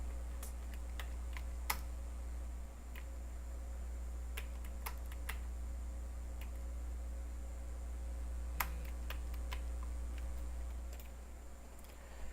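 Clicks of typing on a computer keyboard, a scattered run of light, sharp key taps over a steady low hum, faint and close.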